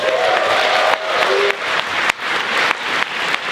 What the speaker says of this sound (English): If you can give A24 a big round of applause.